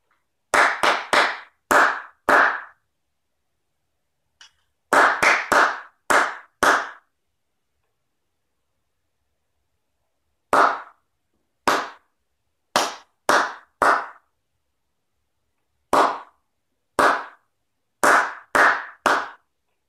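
Hands clap out rhythmic patterns for an ear training exercise, each clap sharp and close, grouped into short bursts of four to six with silent pauses between the phrases.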